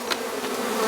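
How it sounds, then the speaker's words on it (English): Honey bees buzzing during a transfer from a nuc box into a hive, a dense, steady swarm hum close by with no talk over it. "we'll just shake the rest of these bees out"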